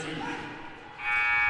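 At a high school basketball game between Lakeview and Cascade Christian, a loud electronic buzzer sounds at the end of the third quarter, a steady tone breaking in after a commentator's speech and crowd noise.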